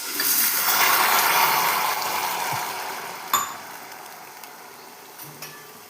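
A glass of water is poured into a pan to make sugar syrup, giving a bright splashing pour that fades over a few seconds, followed by a couple of light clinks from the pan.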